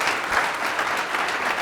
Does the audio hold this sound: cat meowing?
no